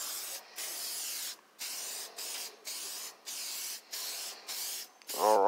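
Repeated bursts of spray as Meguiar's Ultimate Tire Coating is misted onto a tire, about eight evenly spaced hissing pulses with brief gaps, close and steady, ending in a short rattling sound.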